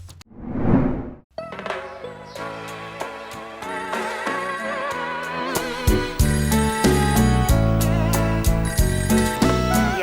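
A bright electronic telephone ringtone chimes in a repeating pattern over a musical backing, loud and close after a brief whoosh.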